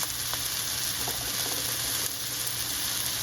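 Steady, loud sizzling of chopped garlic sautéing in hot oil, continuous hiss with faint stirring clicks, close by and without talk.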